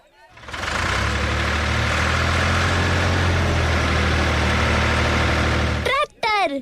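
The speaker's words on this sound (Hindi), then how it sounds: "ट्रैक्टर।" A tractor engine starts and settles into a loud, steady close-up chug with a low rumble that holds evenly for several seconds before cutting off, followed by brief voices.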